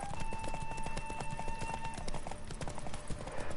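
Rapid, rhythmic hoofbeats of a galloping horse in The Witcher 3: Wild Hunt, steady and fairly loud throughout, with sustained musical tones playing underneath.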